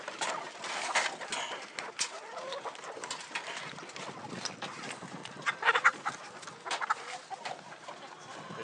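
Free-range chickens out in a foot of morning snow, clucking and cooing in scattered bursts at moderate distance, a steady low murmur of fowl with no talking.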